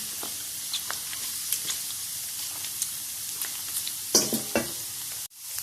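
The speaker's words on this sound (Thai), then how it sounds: "เวลาทอดต้องใช้น้ำมันเยอะแบบนี้นะคะ" Pork being deep-fried in a generous amount of oil, prepared as crispy glass pork: a steady, dense sizzle that holds throughout, with scattered pops and a brief stir near the end.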